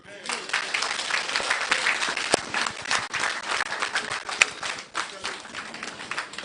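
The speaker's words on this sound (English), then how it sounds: "round of applause. Put your hands together for him" A crowd claps for a speaker at a delegates' gathering, dense fairly loud applause that holds for several seconds, with voices mixed in underneath.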